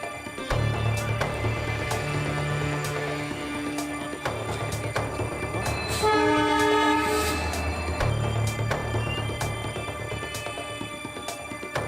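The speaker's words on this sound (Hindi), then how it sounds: "तभी पीछे से दूसरी इंजन हॉर्न बजाते हुए पहुंच जाती है।" A loud, sustained train horn blares in several long blasts from a passing locomotive, with rumbling rail noise underneath.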